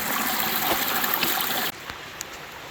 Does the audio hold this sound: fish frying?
no